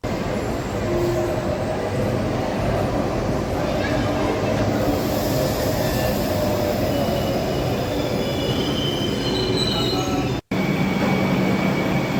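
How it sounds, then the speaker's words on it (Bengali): A Kolkata Metro Blue Line train pulls into a station, a loud continuous rumble of wheels and carriages with squealing tones, and a brief dropout near the end. "বেশিক্ষণ দাঁড়াতে হলো না, এই ব্লু লাইনের জন্য বেশিক্ষণ দাঁড়াতেও হয় না, বেশ ভালোই ফ্রিকোয়েন্সিতে ট্রেন আছে। আমাদের ট্রেন এসে পড়লো।"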